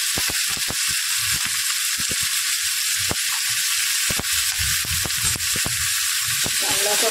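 Finely chopped onions fry with browned garlic in a pan for a dhaba-style methi masala, sizzling loudly and steadily while a spoon repeatedly scrapes and taps the pan in quick irregular strokes.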